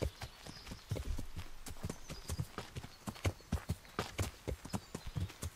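A horse's hooves beat out an even, repeating clip-clop in the game Kingdom Come Deliverance, near and moderately soft, with no voices over it.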